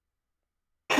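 A single short cough bursts out abruptly at the very end after near-total silence, close and fairly quiet.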